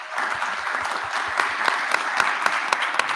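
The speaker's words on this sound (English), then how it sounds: "let's just give yourselves a round of applause again" A small crowd claps steadily at close range at a hackathon livestream, individual hand claps distinct and rhythmic, with no voices over it.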